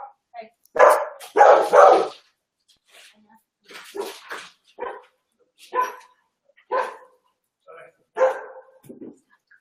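A pet dog barks indoors, a few loud close woofs at first and then a string of shorter, softer barks and yips spaced a second or so apart.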